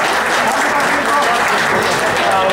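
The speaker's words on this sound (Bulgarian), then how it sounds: "Бурни аплодисменти!" Thunderous audience applause for an orchestra at a festive event, a loud, unbroken roar of clapping from a large crowd filling the whole moment.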